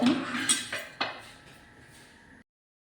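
A metal pan set back down on a stove, a few close clanks and clinks that ring briefly and fade to silence.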